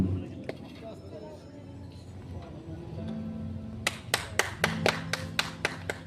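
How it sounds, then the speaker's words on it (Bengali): At a cultural program on stage, a small group gives a short burst of sharp, sparse hand claps in a rhythm of about ten separate slaps, following a stretch of speech and background murmur. "কে কে হাততালি দিচ্ছে"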